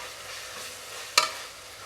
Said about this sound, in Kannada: ಬೆಳ್ಳುಳ್ಳಿ ಶುಂಠಿ ಫ್ರೈ ಆಗ್ತಾ ಆಗ್ತಾ ಎಣ್ಣೆ ಬಿಟ್ಕೊಳ್ಳುತ್ತೆ.